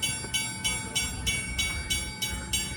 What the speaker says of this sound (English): Sorry, that's the lift bridge again.